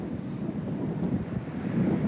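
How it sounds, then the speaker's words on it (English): Wind gusting up to 30 miles an hour buffets the microphones at the 1988 Breeders' Cup racetrack, producing a steady, loud, low rumbling roar that fills the whole stretch with no voices. "And the wind you could hear as well in the microphones, Tom Hammond."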